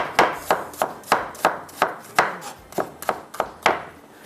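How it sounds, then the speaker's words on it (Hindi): A knife chops an onion on a cutting board in a quick, even series of about a dozen crisp, close knocks, with no other sound between them. "हम एक प्याज को कट कर लेते हैं"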